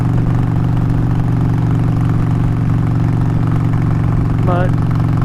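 Steady, loud low rumble of a Harley-Davidson Sportster 1200, converted from an 883 Hugger, running on a cold December ride, with constant wind-buffeted engine drone and a brief voice-like warble near the end.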